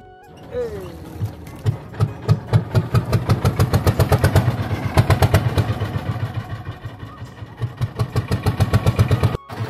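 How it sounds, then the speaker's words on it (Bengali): A motorboat engine runs on a river boat trip with a loud, steady, rapid thumping throb that continues throughout, while voices talk over it. "নৌকার শব্দে কথা ভালোভাবে শোনা যাবে না, অনেক শব্দ হচ্ছে"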